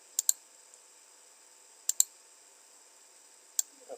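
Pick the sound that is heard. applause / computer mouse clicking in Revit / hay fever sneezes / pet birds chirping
computer mouse clicking in Revit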